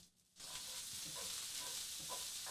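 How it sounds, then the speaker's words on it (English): Brussels sprouts sizzling in a pan as they are stirred, a steady close hiss that starts abruptly after a short quiet moment. "I need to go stir up my Brussels sprouts"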